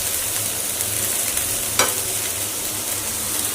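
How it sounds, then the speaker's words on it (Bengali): Morola fish fry in hot oil with a continuous close sizzling hiss, broken by one brief stir or clatter partway through, with no voices. "সেইগুলো যে ভাজা করতে বসিয়েছি"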